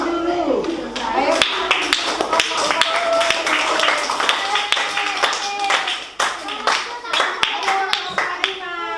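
Classroom applause for a student group at an Indonesian school lesson, with many hands clapping steadily and loudly throughout, children's voices and chatter mixed in under the clapping.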